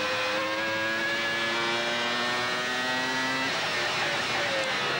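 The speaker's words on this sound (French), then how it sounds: "Jean a magistralement maîtrisé l'écart de sa voiture et il a conservé tout son avantage sur Berger" A 1996 Formula 1 car screams past at the French Grand Prix, its high engine note sliding steadily in pitch before cutting off sharply, then fading into distant track noise; no one talks over it.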